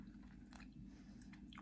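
A crunchy Kyrgyz sawn sugar dessert is bitten with a few crisp crunches. The bites are brief and fairly faint over a low background hum.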